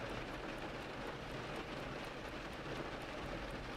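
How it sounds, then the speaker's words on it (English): Steady rain falls continuously with an even hiss and patter, a constant wash of sound with a low background rumble. "the rain seems to briefly up its tempo before resuming its steady rhythm"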